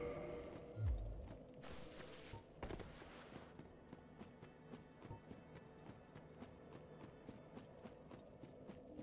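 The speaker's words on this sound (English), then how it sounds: "Jump on the elevator." Elevator mechanism in Dark Souls Remastered, a quiet run of regular mechanical clicks and ratcheting creaks ticking steadily throughout, with a short burst of hissing noise early on and a low thump near the start.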